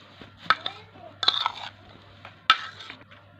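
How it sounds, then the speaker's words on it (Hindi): Chaat masala being stirred into a dahi bara mixture, heard as a few scattered scraping and clinking strokes of a spoon against a bowl, close and fairly quiet, with short pauses between bursts. "अच्छे से इसे भी मिक्स करना है।"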